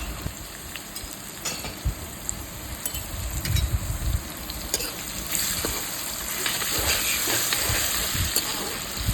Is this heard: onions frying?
yes